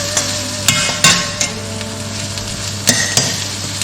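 Chopped onion fries in a hot pan while a utensil stirs it, giving a steady loud sizzle broken by several sharp scraping knocks of metal against the pan, with no voices.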